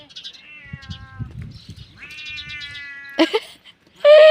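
A cat in a village cattle shed meows several times up close, with soft rustling between calls and a loud, drawn-out meow at the end.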